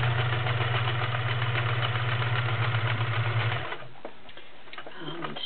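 A vintage all-metal Kenmore model 1525 convertible sewing machine, a 1-amp mechanical model, sews a zigzag stitch with a loud, steady, close hum and rapid ticking, then stops and leaves faint clicks and handling noises.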